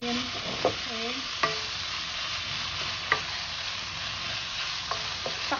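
Ground pork sautés in a pan with a soft continuous sizzle, broken by scattered scrapes and taps of a utensil stirring through the meat.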